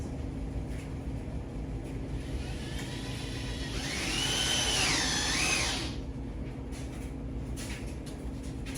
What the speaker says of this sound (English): if I drill this in, like in, it might work